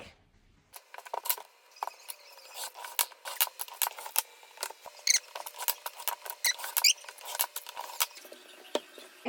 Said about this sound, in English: Let's get to cutting some fabric.